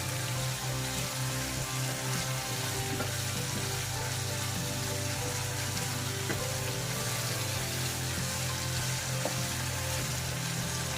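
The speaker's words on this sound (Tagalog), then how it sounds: "Ang ginagawa natin, niluluto lang muna natin yung shrimp." Shrimp frying in a pan keeps up a steady, dense sizzle throughout, close and continuous with faint stirring clicks and no talk.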